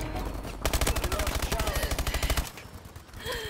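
Rapid automatic gunfire from a shooter video game, a loud burst of evenly spaced shots lasting nearly two seconds, with quieter game ambience before and after.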